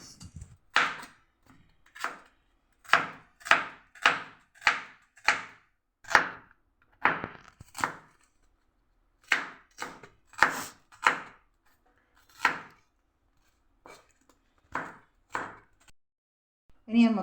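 A knife chops shallots, tomatoes, ginger, garlic and green pepper for a chicken parts masala curry, each cut a sharp, close thud on the board in an irregular series of about twenty strokes with short pauses.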